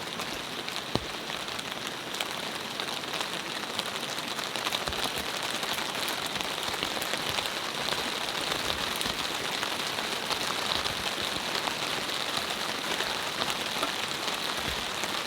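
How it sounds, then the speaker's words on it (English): Steady, dense rain drumming on a tent while camping in freezing cold, a continuous close patter with scattered louder drops, no talking. "I hope you can hear me over the rain."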